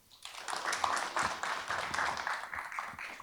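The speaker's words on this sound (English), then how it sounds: "Let's give them a big round of applause." A panel discussion audience claps for the guests, a moderate, fairly close patter of hands that swells in after a brief quiet start and holds steady.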